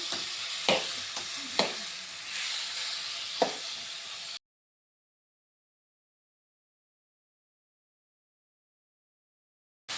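Tomatoes and red chillies sizzle in hot oil, a close crackling fry broken by several sharp stirring clanks of a spoon against the pan, then cutting to silence partway through.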